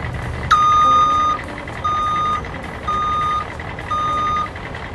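School bus reversing alarm during a vehicle inspection: four steady, loud electronic beeps, each about a second long, repeating at an even rhythm over a low idling engine hum.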